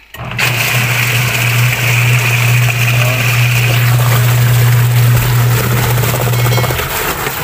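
A repaired washing machine wash motor, previously noisy and overheating, runs with a little water in the tub, giving a loud, steady hum with a constant low drone and splashing wash that stops abruptly near the end.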